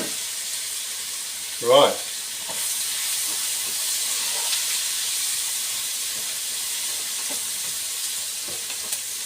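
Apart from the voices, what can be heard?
onions sizzling in pan with cardamom for lamb curry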